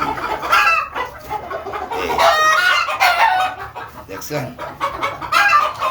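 Gopala chickens, a Bangladeshi breed, cluck and give short crowing calls close by in a farmyard, with bursts of repeated clucks throughout while someone talks briefly over them.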